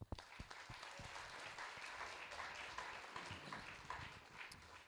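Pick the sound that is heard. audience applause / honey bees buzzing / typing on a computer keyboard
audience applause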